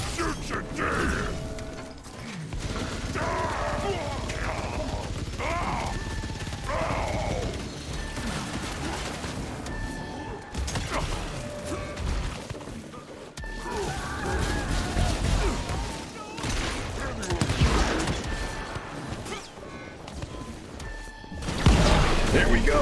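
Gunfire from the video game Evil West rings out as sharp bursts among clanking mechanical game effects, with someone talking over much of the action.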